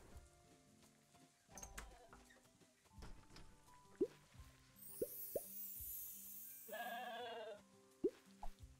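Game sheep bleating in the farming video game Big Farm Story: a short electronic bleat stands out near the end amid soft plops, clicks and background game sounds.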